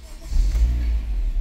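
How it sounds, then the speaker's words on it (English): A 2021 Honda car engine turns over and settles into a low rumbling idle, a short close burst with no voices. "let me start the car"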